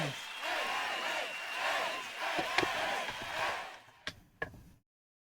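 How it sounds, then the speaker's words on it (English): An in-game crowd in Star Ocean 4 chants a hero's name, a rhythmic mass of voices at moderate distance that ends abruptly, followed by a few sharp knocks and then silence. "Can you imagine an entire crowd chanting Edge at you?"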